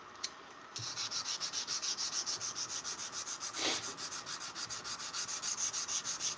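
Hand sanding of a forged knife blade with sandpaper: a quiet, rhythmic back-and-forth rasping of regular strokes, close and steady after a brief pause at the start, with no talking.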